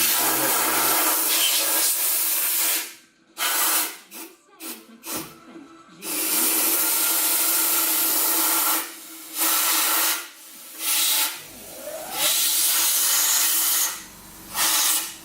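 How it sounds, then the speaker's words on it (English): Compressed air blowing on the differential of a BMW E36 320, a loud, close, steady hiss in long bursts separated by brief pauses, with a few short sputtering blasts midway. "Right, so you take pressured air"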